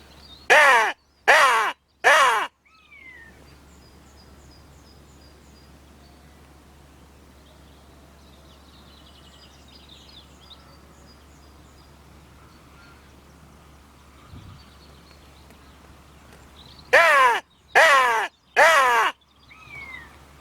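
A hand-blown crow call imitating a hooded crow, with three loud harsh caws at the start and three more near the end, separated by a long quiet stretch of outdoor hush.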